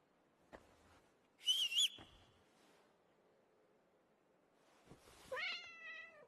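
Cat meows from the video game Kingdom Come: Deliverance 2: a short whistly meow early on, then a longer, rising and falling meow near the end, each clear and close against an otherwise quiet background.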